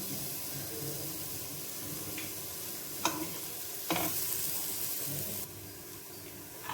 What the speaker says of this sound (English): We need to stir it till the jaggery is mixed properly and it is melted.